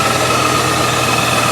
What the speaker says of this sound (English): Now the only noise you can hear is from this pulley here